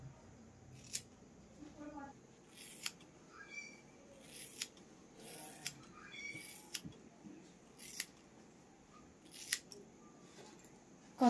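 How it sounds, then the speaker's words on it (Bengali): Scissors snip a baby girl's hair at home for a mushroom cut, a series of crisp, close metallic snips spaced irregularly, with soft voices murmuring quietly in the background. "কতখানি করে চুল কাটছি"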